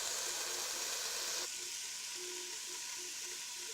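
Onions and peppers sizzle in a pan for chili, a steady close frying hiss that drops slightly in level partway through and then continues evenly, with no talking.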